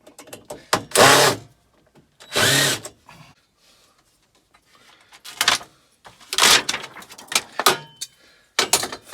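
A power drill backs screws out of an inverter casing in several short whirring bursts of varying length, loud and close, with pauses between them.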